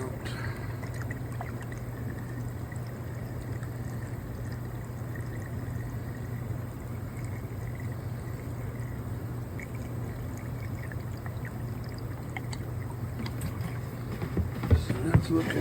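Water is flushed steadily through a clogged air-conditioner condensate drain line, a continuous rushing, gurgling pour under a low hum that grows slightly louder and splashier near the end.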